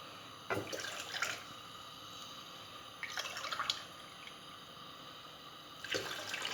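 Water is poured into a pot to make syrup, in three short splashing bursts separated by pauses, quiet and close.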